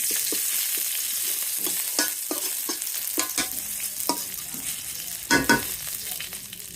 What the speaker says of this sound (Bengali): শাক রান্নার জন্য রসুন দিয়ে দিলাম